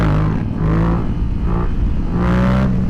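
A Yamaha FZ07 motorcycle engine drones and revs up through gears during a short wheelie on a mountain road, loud and close with rising and falling pitch and wind rush.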